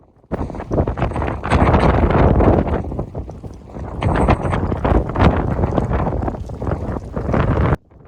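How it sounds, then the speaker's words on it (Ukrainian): Strong wind buffeting the microphone in loud, continuous gusts with roaring rumble, cutting off abruptly at the end. "Дивіться, який сильнючий вітер. Дуже сильний вітер."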